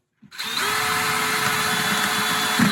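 A power drill drives screws in from the sides to secure a base to a table, a close, steady whirring motor whine that starts abruptly after a short silence and runs without a break.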